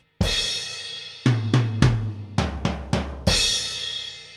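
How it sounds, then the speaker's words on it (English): Kick drum hits paired with a crash cymbal on a drum kit, played close and fairly loud: an opening crash, then a run of six or so quick kick-and-crash strikes in uneven rhythm, ending on a longer ringing crash. "So we have kick with the crash."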